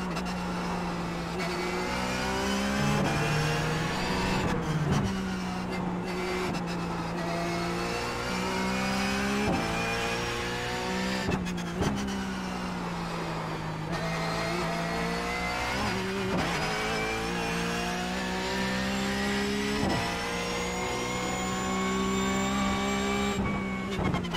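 A Porsche 911 GT3 Cup race car in iRacing's 24 Hours of Nürburgring roars loudly, revving up through the gears with sharp shift breaks, engine pitch climbing and falling repeatedly, with brief tire squeal.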